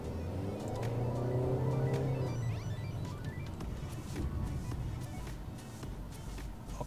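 A Wuling Alvez SUV with a 1500cc engine accelerates, its engine note climbing in pitch over the first couple of seconds, then settling into a steady road rumble and tire noise heard from inside the cabin.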